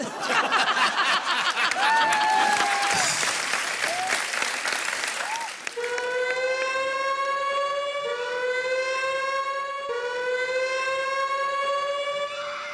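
Cheering and applause on a Hindi TV show give way to a loud siren whose long rising tones repeat steadily, standing alone once the crowd noise fades.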